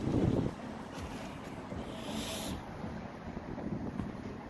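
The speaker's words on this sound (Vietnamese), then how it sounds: "đó gió này" Steady wind gusting across an outdoor market, roaring into the microphone with a louder buffet at the start, then a constant rushing texture throughout.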